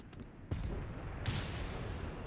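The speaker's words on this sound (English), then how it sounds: "That was a good hit from the mortar there." Mortar fire in Company of Heroes 3, a 4v4 battle on Monte Cavo: two sharp, loud booming impacts about three-quarters of a second apart, followed by rumbling battlefield noise.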